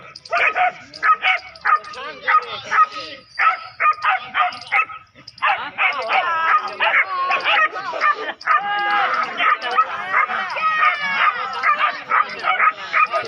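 Several dogs bark, yip and whimper close by in a dense, continuous run of sharp, overlapping calls, with a brief pause before the noise resumes even louder.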